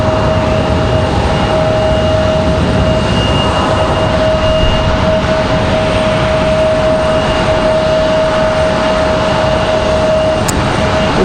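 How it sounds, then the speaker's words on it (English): Delta Boeing 737-9 airliner arriving at Raleigh-Durham airport, a loud, steady roar of jet engine noise with a sustained whining tone, continuous and unbroken throughout, no talking. "Looks like we got a Delta 737-9."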